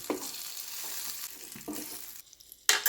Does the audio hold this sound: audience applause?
no